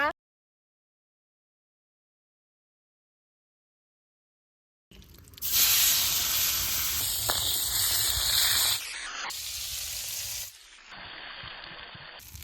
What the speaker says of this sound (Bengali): কড়াই দিয়ে দিলাম তেল পেঁয়াজ রসুন খুব ভালোভাবে বেজা নিছি